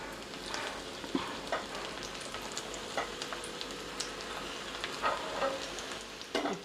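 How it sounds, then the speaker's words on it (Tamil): Masala vadai frying in hot oil: a steady, quiet sizzling hiss with scattered small pops and crackles, heard alone without talk. "இதே மாதிரி பாக்கி உள்ளதையும் நம்ம நல்லா பொரிச்சு எடுத்துக்கலாம்."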